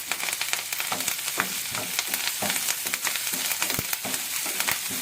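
Onions and curry leaves frying in hot oil, a dense continuous sizzle with steady crackling and occasional stirring scrapes, close and fairly loud throughout with no talking.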